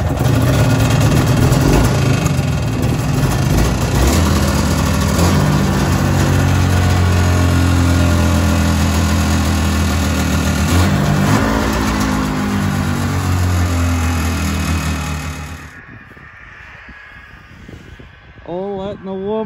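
A Kawasaki 440 snowmobile engine runs loud and steady with a rough, buzzing drone and shifting revs for about fifteen seconds, then cuts out, leaving quieter background and talk.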